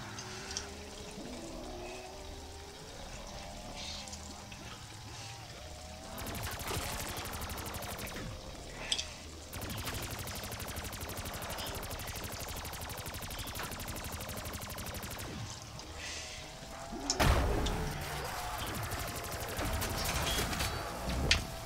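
Bursts of gunfire ring out in a zombie video game, rapid automatic volleys interspersed with quieter stretches of ambient game noise, with a couple of sharp single shots near the end.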